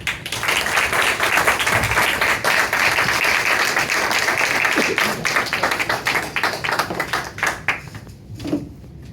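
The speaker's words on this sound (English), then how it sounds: "let's give a big round of applause as Jack comes up to the mic" Audience at a small live talk event breaks into applause, dense clapping that holds steady and then thins into scattered claps as it fades.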